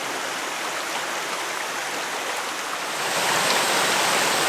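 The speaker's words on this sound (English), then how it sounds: "there's this lovely little waterfall over a ford in the track" Small waterfall spilling over a ford in a countryside track, a steady, dense rushing hiss of falling water that swells slightly louder partway through, close and continuous with no voices.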